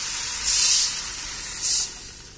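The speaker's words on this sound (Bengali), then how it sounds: "এটার মধ্যে সামান্য পরিমাণে পানি দিয়ে দেবো।" Hissing steam from a little water poured into frying brinjal pieces for achari begun, rising in two short close bursts over a steady low sizzle, with no talking.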